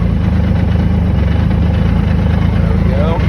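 A 2020 Yamaha YXZ1000R fitted with a GYTR turbo kit runs a steady low rumbling engine note as the clutch is slowly let out under light load, close and loud with an even throbbing pulse.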